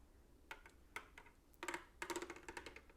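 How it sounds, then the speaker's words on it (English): Mechanism in a LEGO Haunted House 10273 set giving off a faint, light metallic rattle in a few short bursts of quick clicks, close and quiet, with no one speaking. "And then more of a sort of a rattly noise."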